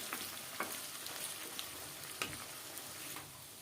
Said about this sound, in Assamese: আমি ভাজি আছোঁ, ভাজি থকা 5 মিনিট 6 মিনিটমান হৈছেহে, বহুত তেল ওলাইছে আমাৰ হাঁহত